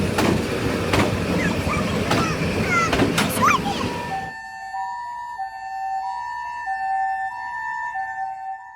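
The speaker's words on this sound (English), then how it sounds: "The tram might be prioritised most of the time, but not in front of an ambulance." An ambulance siren wails over busy street and tram noise, then rings on alone once the surrounding traffic sound drops away.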